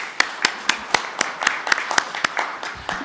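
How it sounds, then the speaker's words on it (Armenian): A government meeting applauds business owners with a few seconds of steady clapping, sharp hand claps repeating at a moderate, even pace from a small group in a room, with no talk over it. "ես առաջարկում եմ, որ մեր գործարաններին նույնպես մենք ծափահարենք իրենց կատարած աշխատանքի համար"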